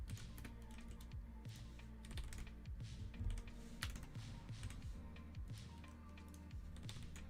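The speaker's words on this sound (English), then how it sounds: "finish typing out these signs" Rapid, steady clicking of computer keys being typed on continuously, fairly faint and close, over a low constant hum, with no talking.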